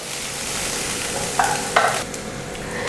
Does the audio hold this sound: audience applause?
no